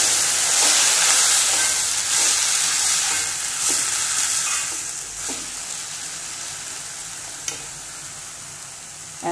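Ground paste being stirred into vegetables frying in a pan for a pachadi, a steady bright sizzle and hiss with soft periodic scraping strokes that fade somewhat toward the end.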